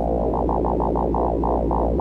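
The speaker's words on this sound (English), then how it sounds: "It's easier to hear with a more sinusoid kind of a wave. So if I turn my LFO faster here," Piston Honda MK3 wavetable synthesizer oscillator playing a sinusoid-like wave with fast LFO modulation, giving a loud, steady pulsing warble that repeats about every quarter second, with no voices.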